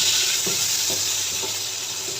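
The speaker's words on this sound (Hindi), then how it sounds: "इनको फ्राई करेंगे अच्छे से।" Green chillies, tomato and onion fry in a pan with a loud, steady sizzle and hiss, broken by a few soft stirring scrapes, with no voices.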